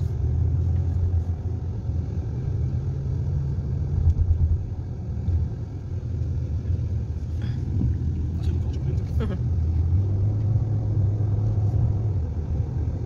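A car drives along a road with a steady low rumble of engine and tyres. People talk inside the vehicle throughout.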